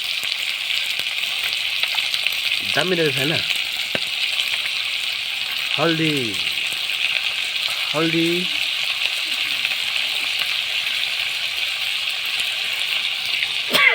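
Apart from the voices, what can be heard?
local chicken frying in a pan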